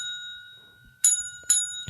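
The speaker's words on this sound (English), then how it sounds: "I haven't been dinging my own bell." A bicycle-style bell rings with a sustained metallic tone, then gets dinged twice more in quick succession, bright and close, with no talking.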